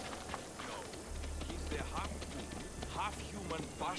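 Horse hooves clip-clop in the video game Assassin's Creed Odyssey, a quick steady run of faint, rhythmic hoofbeats, mixed with game sounds and low background noise.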